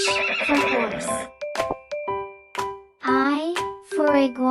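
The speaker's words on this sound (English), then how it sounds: "H for horse." A horse neighs loudly in several long, wavering whinnies, broken by short sharp knocks and brief pauses.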